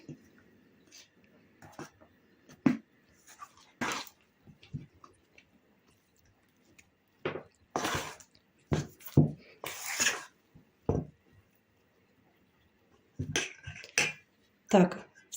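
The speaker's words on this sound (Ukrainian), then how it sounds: "Перемішуємо." Spoon stirring and beating flour into a batter in a bowl while making dough for varenyky, sounding as sharp irregular clinks and scrapes in bursts, with quiet pauses between them.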